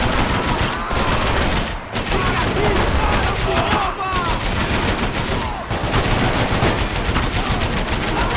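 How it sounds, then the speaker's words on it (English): Dense, continuous gunfire in the video game Max Payne 3, overlapping automatic bursts and bullet whizzes filling the scene loudly, with brief dips in the barrage and possible voices buried in the chaos. "I can't concentrate with bullets whizzing past my head."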